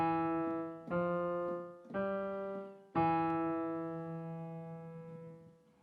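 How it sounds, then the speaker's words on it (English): Four separate keyboard notes sound one after another about a second apart, each a clean sustained tone that decays slowly, with the last ringing longest into silence. "I'm going to try it on my keyboard now."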